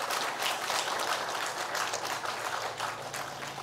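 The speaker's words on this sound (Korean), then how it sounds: "우리 박수 한번 해주시면 고맙겠습니다." Steady applause from a church congregation during a Sunday service, broad and continuous throughout, with no voices heard over it.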